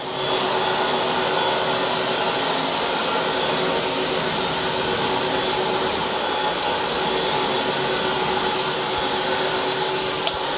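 A Bonzer high-speed carpet cleaning tool with a swivel handle and Teflon glides runs on carpet, giving a loud, steady vacuum-like whine and rush that holds unbroken throughout.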